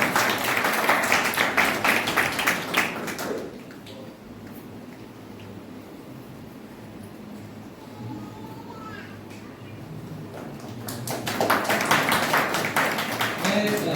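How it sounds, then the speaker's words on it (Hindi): An audience at a theatre premiere of the play Chambal Ka Shaurya bursts into loud, dense applause, fades to a quieter murmuring stretch, then swells into a second strong round of clapping. "मैं जोरदार आपकी तालियों के साथ आमंत्रित करता हूँ और इन्हें कतों लगाइए जोरदार तालियां"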